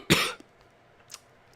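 A single sharp, close cough, followed a moment later by a smaller, softer cough or throat catch, in an otherwise quiet room.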